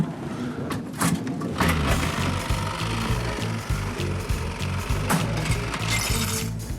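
An early mechanical slot machine is cranked, a loud close ratcheting clatter of gears and pawls in rapid repeated clicks over a few seconds, with sharp metallic knocks.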